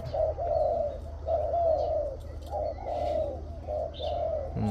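A captive decoy dove gives a series of deep, full coos in a regular repeating rhythm, about five phrases close to the microphone over a low background hum, with no talking.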